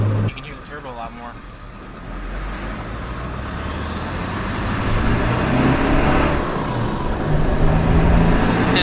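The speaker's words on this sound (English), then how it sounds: "Man, these tires are loud though. You can hear the turbo a lot more." A Ford Super Duty pickup with a 4-inch straight-pipe exhaust cruises and gradually picks up speed, a steady engine drone under road and tire roar, with a rising turbo whine climbing above it; a brief voice sounds at the start.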